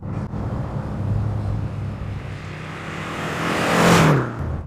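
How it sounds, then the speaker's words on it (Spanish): A 1989 Renault 5 GT Turbo hot hatch engine hums steadily with a prominent exhaust note, then swells as it revs or passes close, peaking before settling back to a steady drone; no voices. "El motor suena bien. Puedes escuchar mucho el sonido del escape."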